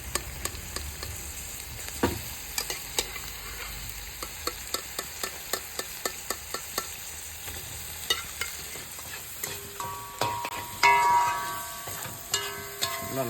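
Pork frying in oil and rendered pork fat in a pan sizzles steadily, with a regular ticking of a spoon scraping and stirring against the pan and a faint voice near the end.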